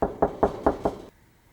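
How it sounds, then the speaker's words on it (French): Five evenly spaced raps on the door of a villa in a children's story, firm and close, followed by silence. "Il frappa à la porte."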